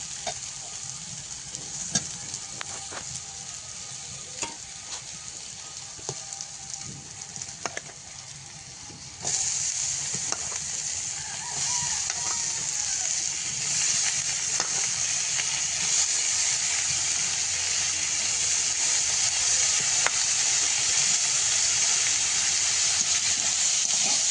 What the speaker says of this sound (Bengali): পটল আলুটা কষানো প্রায় হয়ে গেছে, এবার ঝোলের জন্য জল দিয়ে দেবো